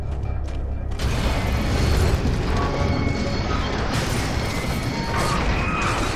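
A bridge mechanism connecting in Gears of War 2: a loud mechanical crash and grinding clank that sets in abruptly and rumbles on with creaks under battle ambience.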